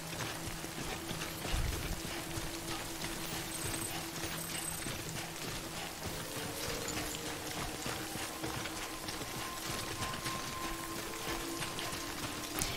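Steady rain falls in the video game Death Stranding, a continuous soft patter of drops on surfaces with a low background tone, evenly sustained throughout with no one talking.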